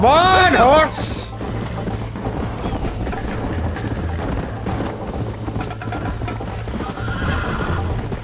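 A horse neighs loudly at the start in Red Dead Redemption, then its hooves clip-clop steadily in a fast galloping rhythm under game music and a voice urging it on.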